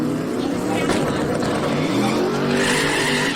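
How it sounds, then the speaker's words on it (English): A Pontiac drag race car launches at a summer drag racing event, its engine roaring loud with a brief squeal of spinning tires as the driver pedals it, under a track announcer's commentary. "Little bit of tire spin and Lesko pedals it"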